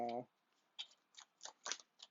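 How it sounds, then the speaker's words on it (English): Tarot cards being shuffled in a series of short, crisp riffling bursts after a brief low hum, each burst separated by quiet pauses, close and fairly soft. "Let's do a quick shuffle."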